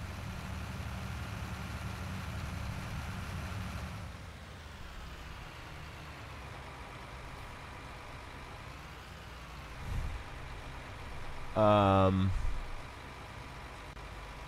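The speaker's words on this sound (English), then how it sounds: "Get back to this tractor." A tractor engine in Farming Simulator 19 idles with a low, steady rumble that drops quieter after a few seconds, then continues faintly under a brief louder tonal sound near the end.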